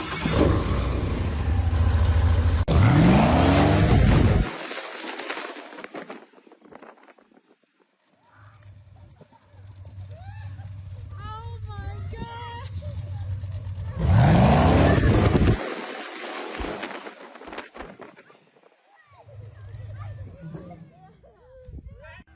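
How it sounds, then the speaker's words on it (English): Loud 580-horsepower Corvette engine revs in two long blasts, each roaring steadily for several seconds before dropping away, with voices and laughter of young boys filling the quieter gaps between. "580 horsepower Corvette motor against 4 young boys."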